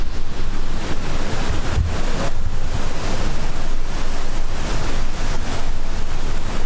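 A waterfall in Antalya roars steadily and loudly while wind buffets the microphone in gusts, with no voices heard.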